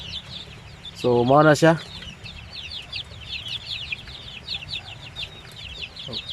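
One-month-old Basilan chicks peep and chirp in a steady, high scatter of calls throughout, with a brief spoken voice early on in a farm pen.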